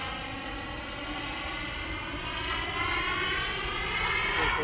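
A Freewing F22 Raptor model jet with a KingTech 4.5 kg turbine lands, its turbine whine steady and fairly loud, with tones slowly sliding and the sound swelling slightly toward the end.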